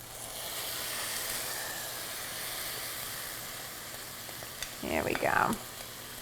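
Salmon pieces sizzling and crisping in a pan with honey sriracha marinade poured in, a steady frying hiss rising into a louder burst of spitting as the liquid hits; a voice speaks briefly.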